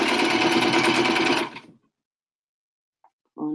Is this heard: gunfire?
no